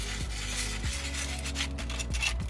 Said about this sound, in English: So the first thing we need to do is sand the brake calipers.